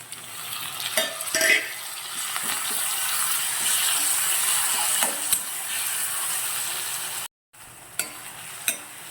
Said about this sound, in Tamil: தக்காளி, வெங்காயம் நல்லா வதங்கிச்சு